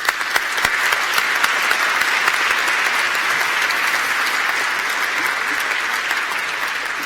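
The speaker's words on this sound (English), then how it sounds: "they deserve a huge round of applause" A large graduation audience at City of Glasgow College gives sustained, loud, even applause, a dense wash of many hands clapping that stays steady for several seconds with no speech.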